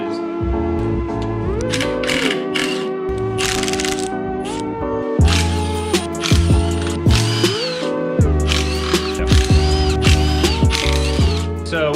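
Ratchet clicking as bolts come off the oil pan of an SR20DET engine block, short bursts of rapid pawl ticks with metallic clinks between them, close and loud throughout.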